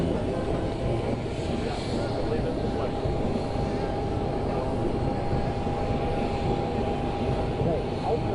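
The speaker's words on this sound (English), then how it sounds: "Plane on the ground with players." Clemson team plane sits on the ground after landing, its engines producing a steady, loud broadband roar that runs unbroken throughout, with voices faintly audible beneath.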